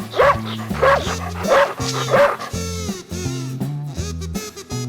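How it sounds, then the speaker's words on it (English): A puppy barks with quick, high yips repeated in a steady series, close and loud over a bed of background music. "puppy"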